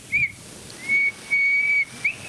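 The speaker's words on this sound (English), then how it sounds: "Somebody's whistling." A person whistles a few sustained high notes with pauses between them: short blips, then two longer steady tones.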